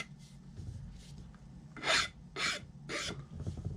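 Hand sanding on a composite mold makes short rasping strokes. Three louder scrapes land near the end of a quiet, scratchy rubbing passage.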